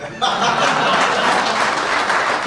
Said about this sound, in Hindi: ताली ताली तो जोरदार बजेगी